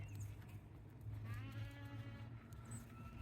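Cattle on a small farm in spring, including newly arrived cows, let out a faint, distant low moo that rises and fades over quiet outdoor background noise, with no talking.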